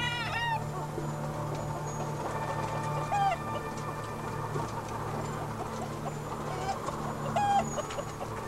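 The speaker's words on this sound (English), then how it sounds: "The roosters you hear have either been missexed or intentionally placed among the hens" Many caged hens on an egg farm cluck continuously, with occasional louder rooster calls cutting through a constant mechanical hum.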